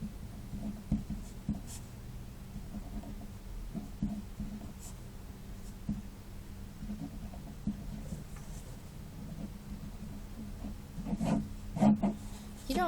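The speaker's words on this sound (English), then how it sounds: "So let's just write it up here." Marker or pen writing out a math answer on a board, a steady faint scratchy rubbing with short strokes and taps throughout, growing a little busier near the end, with no talk.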